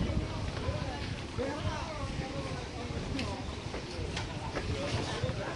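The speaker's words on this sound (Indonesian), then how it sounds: "Ini juga masih pagi sebenarnya, tapi anginnya sudah sangat kencang." Strong morning wind blowing across the open sea near an offshore tomb, heard from a boat as a steady, dense roar buffeting close to the microphone, with indistinct voices under it.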